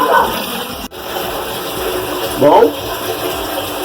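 Water gushes from an opened pipe in a steady rushing flow, loud and close, with a brief dropout and a few short bursts of speech over it.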